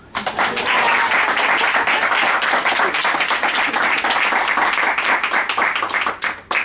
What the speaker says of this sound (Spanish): Se cierra la historia y empiezan los aplausos del público.